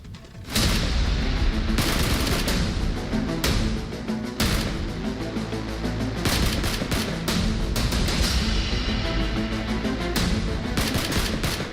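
Rapid bursts of gunfire crackle continuously and loudly, dense volleys with brief pauses, sounding harsh and close, during a terrorist attack on a military hospital in Kabul, Afghanistan.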